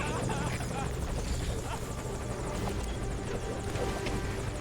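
A military helicopter arrives at a landing zone in Metal Gear Solid V: Ground Zeroes, its rotor buzzing and chopping steadily close by while voices talk over it.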